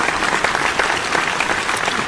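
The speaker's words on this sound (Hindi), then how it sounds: "जोरदार तालियां रमेश जी के लिए इस बार" A hall audience at a Hindi poetry gathering gives hearty applause, a loud, close, continuous patter of many clapping hands with no talk over it.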